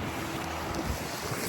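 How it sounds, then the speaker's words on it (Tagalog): Strong wind blows outdoors in snowy Calgary, a low, steady buffeting roar that rumbles against the microphone throughout, with no voices. "Naku, lamig. Ang hangin natin, no?"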